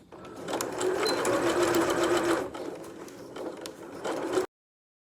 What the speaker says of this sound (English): So I shall start sewing, and I will just put a little bit of a back stitch going on as well